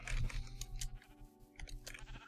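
Several Minecraft sheep bleat in short, nasal bursts, a few calls close together over crunchy game noises, fairly near and clear.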